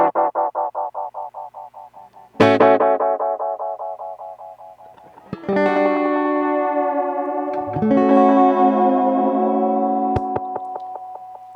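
Notes pass through an analog reel-to-reel tape delay with a lo-fi, mid-boosted EQ, highs and lows cut, and each hit repeats in decaying echoes that stack into a smeared, sustained wash, with no talk.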